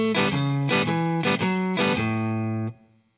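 Electric guitar plays the shuffle riff on A, a few chunky strummed hits with upstrokes between them, ending on a ringing chord that cuts off, loud and close.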